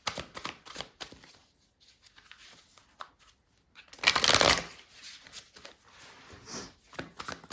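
Tarot cards being shuffled and laid out, with rapid riffling bursts and a loud flurry of shuffling in the middle, followed by softer flicks and taps as cards are placed.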